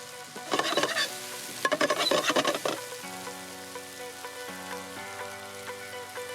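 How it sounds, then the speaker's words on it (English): Onions and garlic sauté in extra virgin olive oil, crackling in two busy bursts with stirring, then settling into a softer steady sizzle against a faint background hum. "We'll just saute this off in a little bit of extra virgin olive oil"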